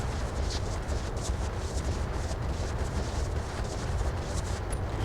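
Fire-and-forget missile volleys in a modded Battletech (Roguetech) battle, a dense continuous roar of launches and explosions, loud and sustained with crackling impacts throughout.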